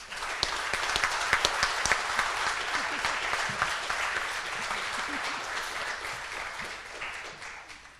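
An audience applauds panelists at a community conversation on homelessness in Bakersfield, with dense, sustained clapping that holds steady for several seconds before tapering slightly at the end.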